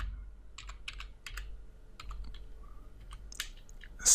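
Light clicking keystrokes on a computer keyboard as a git config command is typed, irregular taps and short runs of keys, fairly quiet and close, with no talking.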